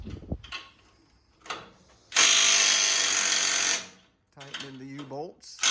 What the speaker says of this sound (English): Tightening the U-bolts.